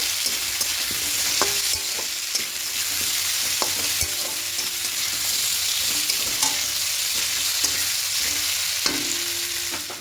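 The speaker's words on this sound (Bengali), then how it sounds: "এবার মশলার সঙ্গে খুব ভালো করে একটু কষিয়ে নেব" Spices sautéed and stirred in a pan with pre-fried cauliflower, potato and salt, using very little oil, for an egg omelette curry; steady close sizzling with frequent scraping stir strokes throughout.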